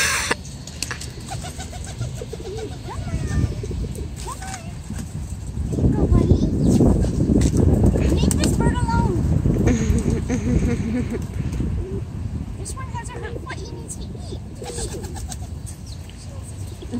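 Pet finches and a pigeon-like bird chirp and coo close by indoors, calls scattered throughout with a louder busy stretch in the middle, while a person talks to them gently.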